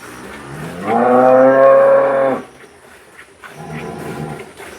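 A dairy cow moos once, a loud drawn-out call close by, followed by quieter rustling and a faint second low sound on a cattle farm.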